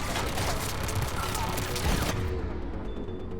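Turret firing in the video game Mass Effect 3, a fast, dense burst of shots and booms that stops abruptly about two-thirds of the way through, with voices heard alongside.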